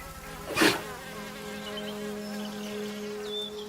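Honeybees from a hive of around 40,000 in a garden, a steady insect buzz with several droning tones holding throughout, a brief louder burst as one passes close near the start.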